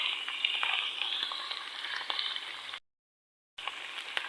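Carrots and potatoes fry in a pan for a vegetable rice dish, a close, steady hissing sizzle with light crackles that cuts out to silence for a moment before resuming.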